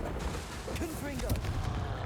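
A Confringo spell blast from Hogwarts Legacy booms amid dense, continuous combat noise, with a voice shouting over the barrage of fiery impacts.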